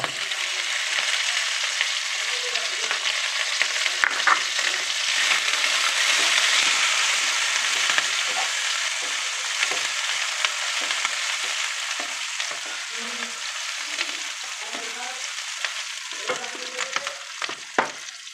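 Onion quarters sizzle loudly in a hot pan for a Chinese-style vegetable dish, a dense continuous hiss with scattered crackles and pops and a few spatula scrapes, close-up with no talking.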